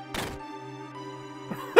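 In Final Fantasy VII, a jammed machine is banged on: one hollow thunk, then a quiet humming stretch, a softer knock, and a final loud thud, all without speech.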